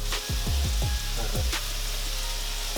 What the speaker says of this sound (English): Add your onions and garlic to the beefy bits of the pan.